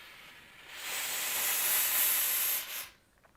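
A Laura Star steam iron with a water tank below releases a strong, continuous hiss of steam, building over a couple of seconds and then cutting off sharply, with no voices present.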